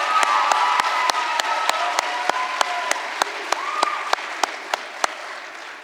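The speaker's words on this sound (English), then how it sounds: "let's give one big round of applause to all the talent we saw tonight" Audience applause and cheering for the talent at a school contest show, a dense steady wash of clapping and crowd noise with sharp loud claps or hits at a regular beat and a few whistles, fading slightly toward the end.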